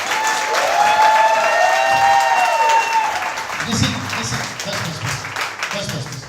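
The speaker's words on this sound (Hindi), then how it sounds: "कम ऑन, एक अच्छी ताली सिर्फ यीशु को।" A church congregation claps together in praise of Jesus, a loud, dense wave of applause that swells at the start and carries on steadily before thinning out, with a voice speaking over it.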